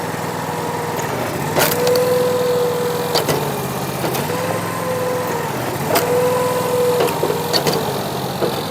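A firewood splitter's small engine runs just over idle, a steady close hum with a higher tone that rises and falls as the hydraulic splitter loads, punctuated by sharp cracks of wood splitting roughly every second or two.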